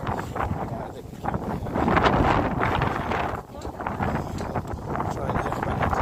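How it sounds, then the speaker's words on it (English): Strong wind buffets the microphone on a seafront at night, a steady loud rushing roar that swells and dips throughout, with people talking over it. "it's going to be very, very windy"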